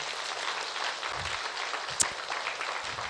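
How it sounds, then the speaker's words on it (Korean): Steady audience applause after a cello performance at a summer-night evangelistic gathering, a dense, even clapping that fills the whole stretch with no talk over it. "아주 좋은 음악을 연주해 주신 분께 다시 한번 박수 좀 부탁드립니다"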